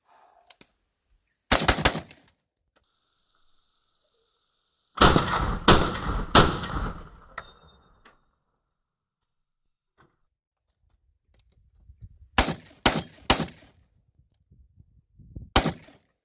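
Colt M4 rifle chambered in 5.56 fired at close range into plastic jugs: loud sharp shots in quick bursts, a double tap, a run of rapid fire, and more clustered shots near the end, with silence between groups.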